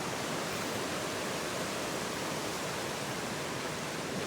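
Sweden's highest waterfall and a small river beside it send up a steady, even rush of falling water that stays unbroken and fairly faint throughout.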